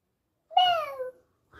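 A voice imitates a cat, giving a single close, clear drawn-out meow that rises and then falls before trailing off into silence.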